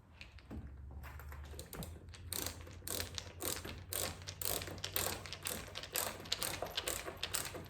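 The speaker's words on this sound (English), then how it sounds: "got my handy screwdriver here" A hand screwdriver drives a screw into the back of artwork to fit hanging hardware, producing close, rapid ratcheting clicks in quick bursts after a brief initial scrape and thud.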